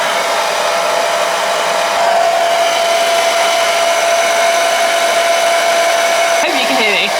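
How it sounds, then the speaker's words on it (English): Hair dryer with a diffuser attachment blows steadily on gelled hair, a loud constant whoosh with a faint whine running throughout, plus a brief rustle near the end. "Just be really gentle with it and diffuse away."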